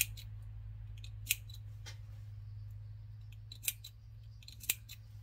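Sharp scissors snip through sewn fabric corners in three distinct, well-spaced cuts over a steady low hum, quiet and close, with no talking.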